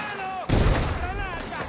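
A grenade explodes in the video game Mafia: The Old Country with one sharp, loud blast and a rumbling tail, while voices talk over it.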